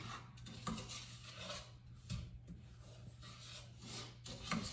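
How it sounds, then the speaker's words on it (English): Pecans stirred in melting sugar in a pan over a little more than medium heat, with soft repeated scraping and rubbing strokes against the pan, quiet and close, under a low steady hum. "Just keep stirring it."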